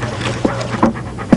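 A Shar Pei pants close by in quick, breathy huffs, a few sharper breaths standing out over a low steady background hum.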